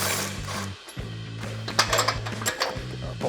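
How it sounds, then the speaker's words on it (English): A ratchet wrench clicking steadily while strut bolts come out on a Ford F-150 front suspension during a leveling kit install, with steady buzzing clicks, a brief pause, then more ratcheting and a few metallic knocks. "take both the front and the back bolts out"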